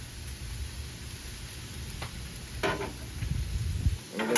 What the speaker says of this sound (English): now we're going to add a little bit of soy sauce to the rice for some flavor